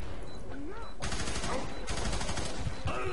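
Rapid bursts of gunfire from dual-wielded guns in the F.E.A.R. 3 video game crackle in dense, overlapping volleys, with a voice briefly audible amid the shooting.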